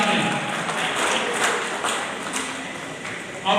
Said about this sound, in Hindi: आपकी तालियां आए।